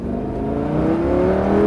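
A race car on the Nogaro circuit accelerates at full throttle, its engine loud and close with a droning note that climbs steadily in pitch, and no voices over it.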